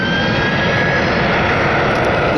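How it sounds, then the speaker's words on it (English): A NetJets Bombardier Global 7500 business jet passes close overhead with a loud, unbroken engine roar and a faint high whine, filling the whole short stretch. "This right here is a NetJets Bombardier Global 7500. It's going to Dayton. I think it's decently loud."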